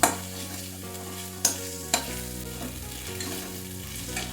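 Onion, ginger, garlic and green chilli are stirred in a pan for chole masala, a low steady sizzle with three distinct spoon knocks against the pan and no speech.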